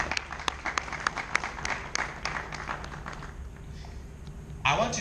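Graduates at a ceremony clap for their lecturers, scattered sharp claps over a steady crowd murmur that thin out and fade, with a brief rustle near the end.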